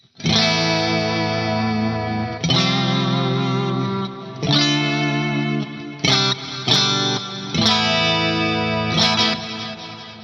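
Electric guitar with split coils not wired in series, played through a Fractal FM9 Turbo with chorus, delay and reverb, giving a thinner, defined tone; sustained chords and sharper accents ring out close, with no voices.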